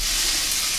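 Sausages fry in a pan over medium heat, a dense, even sizzle, loud and close, with no pauses.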